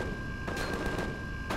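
Bursts of gunfire in the Empyrion Galactic Survival video game, a few sharp cracks and short rattling volleys at moderate distance over a steady electronic hum.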